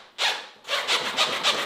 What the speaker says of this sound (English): That's the sound of fresh new tires.